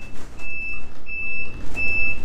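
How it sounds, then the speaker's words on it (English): Loud added indicator buzzer on a Lambretta SIL GP125 scooter, sounding three sharp, evenly spaced beeps over a low engine rumble, close to the microphone. "also added a very loud buzzer which helps me remember they're on and pedestrians know I'm turning"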